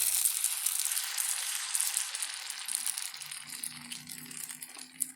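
Egg beaters sizzling in a skillet with potato and sausage at an outdoor woods lunch, a bright continuous hiss with small crackles and pops, easing slightly as a faint low hum joins near the end.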